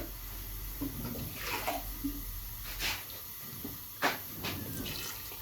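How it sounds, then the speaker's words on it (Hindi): Water is poured into a pot of beef and bottle gourd curry, giving a soft, splashy hiss with a few brief louder gushes, heard alone at close range. "थोड़ा सा पानी इसमें हमने ऐड कर देना है साथ।"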